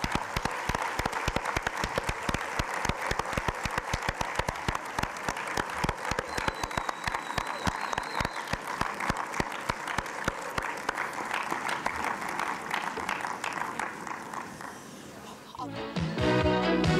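Sustained applause from a large audience at the 1994 Kral Music Awards in Turkey, steady and dense throughout, with a brief burst of louder clapping near the end.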